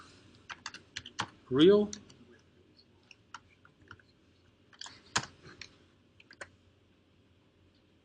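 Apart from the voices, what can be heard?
typing on a computer keyboard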